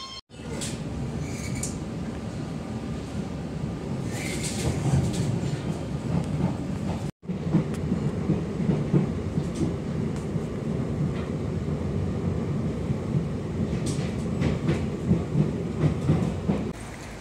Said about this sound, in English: And here's a little train on its way.